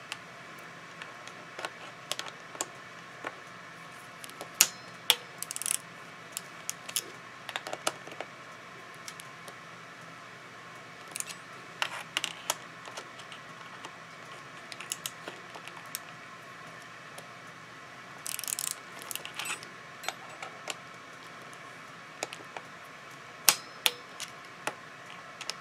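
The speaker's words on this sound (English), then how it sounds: "When you hear the torque wrench click, this bolt is sufficiently tight." A bicycle torque wrench tightens a bolt, giving faint, scattered clicks and small ratchet ticks in irregular bursts over a quiet background.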